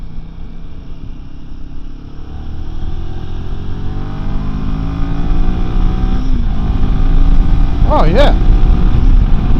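A Royal Enfield Himalayan 450 motorcycle rides steadily in third gear, its engine a close, loud, continuous drone that swells slightly as it pulls, with wind rush and a brief spoken remark from the rider.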